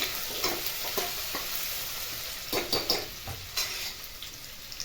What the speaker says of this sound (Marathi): यानंतर लसूण आणि अद्रक मिक्सरमध्ये बारीक करून घेतलेला आहे, ती पेस्ट मी टाकलेली आहे। चांगलं हलवून घ्यायचं।